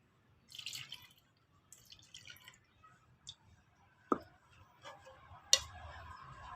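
A little water is poured into a homemade fruit blend already mixed with milk, giving quiet, intermittent splashes and drips with a few sharp clicks and taps against the container, with no talking.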